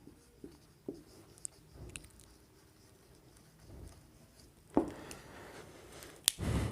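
Writing strokes scratch out in short, irregular bursts with pauses between, fairly close and quiet, ending with a few sharper, louder scrapes.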